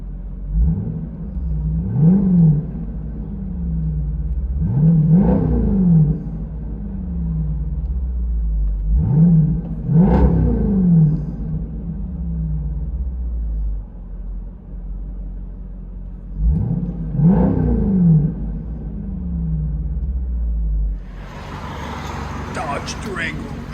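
Heard from inside the cabin, a 2022 Dodge Durango SRT 392 HEMI with a Borla ATAK cat-back exhaust revs five times in repeated throttle blips, each rising into a loud growl and falling back to a rumbling idle.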